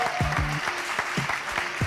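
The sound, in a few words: audience applause for guests Helena Oma and Vega Gimeno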